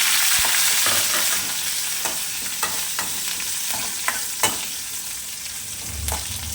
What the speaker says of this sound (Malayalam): ഉണക്കമുളക് കറിവേപ്പില ഉള്ളി രണ്ട് കടുക് വെളുത്തുള്ളി ഇത്രയും സാധനമാണ് ഞാനിതിൽ കടുക് മൂപ്പിച്ചിടുന്നത് കേട്ടോ